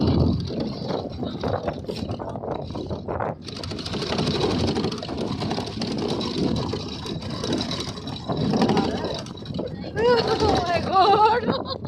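Jeep engine driving across a cold desert on a safari near Skardu, a steady rumbling drone throughout with people talking over it.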